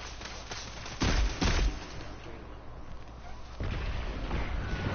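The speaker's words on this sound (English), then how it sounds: "this scout rifle's fucking slow as fuck when you shoot" Slow, spaced shots from a scout rifle in Destiny 2 fire as a few heavy thumping reports, followed by a louder rumbling stretch of background combat noise.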